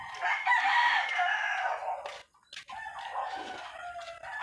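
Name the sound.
chickens being fed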